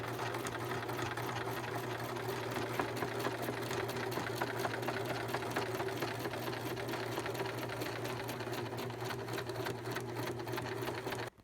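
Sewing machine stitching a fabric curtain, a continuous fast mechanical whir and needle patter, steady and close throughout before stopping abruptly.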